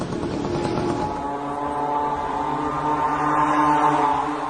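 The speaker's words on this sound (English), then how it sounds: "This is a small moped engine, or scooter engine sourced from China, at a cheap price." Cheap Chinese-made moped or scooter engine powering a small aircraft, a steady droning, buzzing engine note with strong harmonics that holds loud and close throughout, rising slightly in pitch toward the end.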